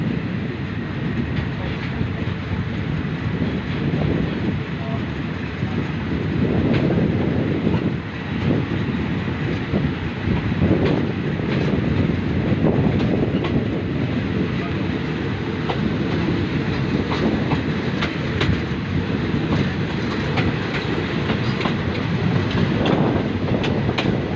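Thai express train number 52, hauling former JR West sleeper cars, rumbles along from on board with continuous loud rolling noise and rhythmic clickety-clack of wheels over rail joints, no voices.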